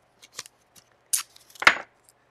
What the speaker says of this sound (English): let me get a little bit of masking tape here to tape down my stencil